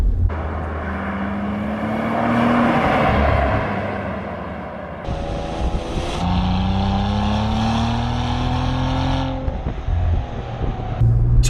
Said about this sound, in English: this engine is so torquey that on a road like this, which is just narrow, turning all around, you can just leave it in second gear